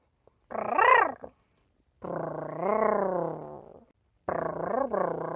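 A human voice imitates a cat's purr in three rolling, throaty bursts separated by short pauses, close and clear.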